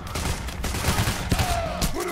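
Rapid bursts of gunfire in the co-op heist shooter Payday: The Heist, dense overlapping shots crackling loudly through the whole stretch with busy game noise beneath.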